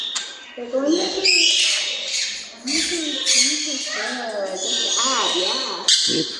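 Parrots at Parrot Mountain in Pigeon Forge, Tennessee, squawk and chatter loudly up close in harsh, warbling calls, overlapping one another, with a person's voice mixed in among them.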